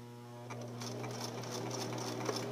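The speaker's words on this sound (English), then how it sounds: "I'm going to hand wheel my last couple stitches and a back stitch." A sewing machine turned slowly by its hand wheel runs the last few stitches and a back stitch on fabric, a steady close mechanical whir with light ticking and no talk.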